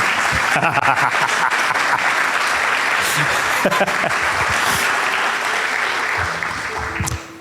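A church congregation applauds loudly and steadily for several seconds, dense clapping filling the room before it tapers off near the end, with a few voices mixed in.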